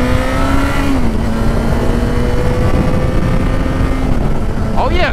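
Engine of a 2010 Yamaha FZ6R motorcycle revving and dropping as gears are shifted, a steady close drone under heavy wind noise with a rising note near the end.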